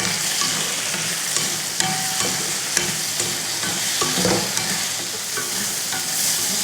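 Onions and tomatoes sautéing for mutton kulambu, a steady close sizzle and crackle in the pan with scraping stirs and light clinks throughout, no voices.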